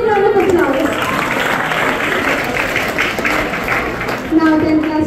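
Audience applause after a school children's dance at an Independence Day celebration, moderate clapping running under an announcer speaking over a loudspeaker at start and end.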